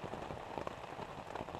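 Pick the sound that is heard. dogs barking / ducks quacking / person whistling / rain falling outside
rain falling outside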